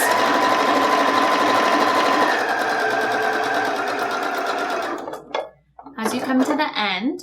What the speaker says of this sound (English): I'm just going to sew all the way around this